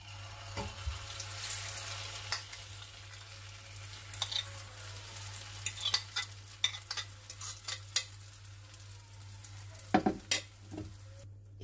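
Sweet potato mixture frying in hot oil in a home kitchen, a steady soft sizzle with occasional scraping and clicks from the pan, no talking.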